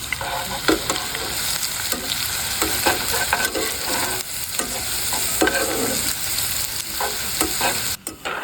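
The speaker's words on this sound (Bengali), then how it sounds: "আগে থেকে আমি পেঁয়াজ মরিচ কেটে নিয়েছি তো এবার আমি সুন্দর মতন ভেজে নেব" Chopped onions and green chilies sizzle steadily in a hot pan with oil, a continuous close frying hiss broken by occasional scrapes and clinks of stirring, with no talking.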